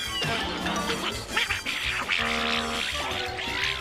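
Donald Duck's raspy cartoon quacking voice sputtering over lively old cartoon music and sound effects, loud and continuous throughout.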